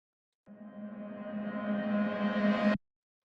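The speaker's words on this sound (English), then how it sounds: "Here I have just like the stock Ableton riser ambient chord." A stock Ableton riser ambient chord sample swells for a little over two seconds, its tone brightening and climbing steadily before cutting off abruptly into silence.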